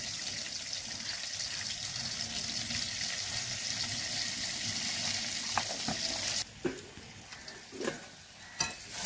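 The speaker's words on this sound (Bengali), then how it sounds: "আলুটা হালকা করে ভেজে নিয়েছি" Potatoes fry in oil in a wok, giving a steady close crackling sizzle for several seconds before it thins out, broken by a few clinks and stirring scrapes.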